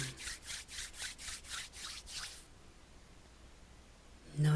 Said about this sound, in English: And rubbing the hands together once again.